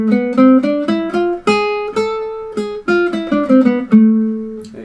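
A guitar plays an A harmonic minor scale as a run of distinct plucked notes, each ringing briefly before the next, at a steady moderate pace, close and clear with no voices.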